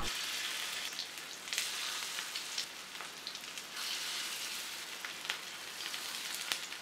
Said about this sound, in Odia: ଆକୁ ଧୀରେ ଧୀରେ ଲୋ ଫ୍ଲେମ୍ରେ ଭାଜିବା